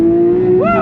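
A Porsche 992 GT3 goes to full throttle, its engine roaring loud and close in a steady high-rpm tone before the pitch sweeps upward as it pulls hard.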